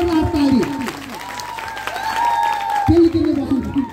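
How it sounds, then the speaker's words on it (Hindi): A crowd of spectators claps and cheers at an outdoor Ramlila stage performance in Nainidanda, with continuous applause running under loud speech and music throughout. "अब जोरदार ताली"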